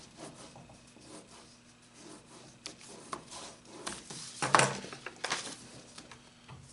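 Quiet rubbing and scraping strokes burnish the edge of a Japanese style box, with a brief louder swipe midway and scattered soft contact sounds around it, no voices.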